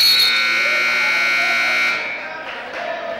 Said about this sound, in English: Sounds like we're going to have both buzzers going at full force here